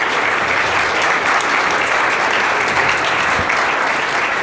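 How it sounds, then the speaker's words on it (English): An audience at a startup tech event applauds its sponsors, a dense, steady burst of clapping filling the room at full volume with no talk over it. "A round of applause for all our sponsors."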